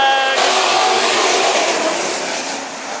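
Modified race cars at Bakersfield Speedway roar together at full throttle under the green flag, a dense, loud, steady engine wash that fades slightly as the pack pulls away.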